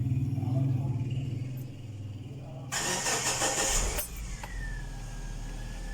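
A FAW V2 car engine cranks and catches after a few quiet seconds of idle background, the starter whirring sharply before the motor settles into a smooth, steady idle close by.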